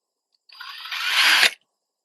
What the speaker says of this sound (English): I've got my trusty little drill. All you need is a tiny drill piece on the end, and then go around.